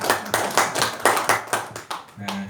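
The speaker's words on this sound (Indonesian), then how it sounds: "Tepuk tangan dulu dong." Audience at a village council (BPD) comparative study meeting in Sumberejo clapping in a room, a steady patter of many hands that fades near the end.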